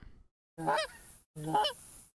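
Two distinct Canada goose honks from the hunting video game theHunter Classic, each a short, nasal call separated by a brief silence, fairly faint and with no talk.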